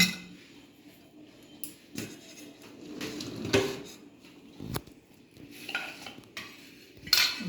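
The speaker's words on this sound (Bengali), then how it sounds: "ডালটা বেড়ে নিই একটা বাটিতে" Masoor lentil dal with coriander leaves being ladled into a bowl, with scattered metal clinks of spoon against bowl and soft scraping, close and fairly quiet.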